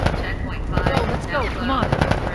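Automatic gunfire from The Last of Us Part 1 rattles in rapid bursts amid a dense game mix of voices and background noise, with shots fairly close and continuous over the whole stretch.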